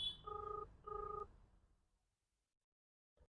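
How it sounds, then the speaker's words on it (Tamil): A Landmark Drift round-dial smartwatch (LWSW791) plays its outgoing call ringing tone: two clear electronic double-burst rings in quick succession, then near silence with a faint tap at the end. "ரிங் டோன்லாம் சூப்பராக தான் இருக்குது."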